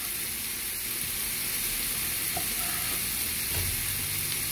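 Tomato dropped into a hot pan of beef picadillo with cilantro, giving a steady, moderately loud frying sizzle with a soft hiss throughout and a faint clatter of a spoon or stirring near the end.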